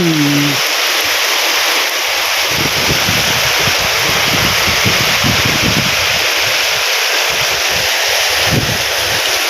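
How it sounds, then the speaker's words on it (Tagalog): Very heavy rain pours down at a farm, a loud, dense and continuous hiss close by with a low rumble underneath; a brief tone sounds at the start. "Sobrang lakas ang ulan."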